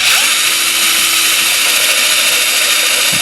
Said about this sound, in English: drilling this out like this.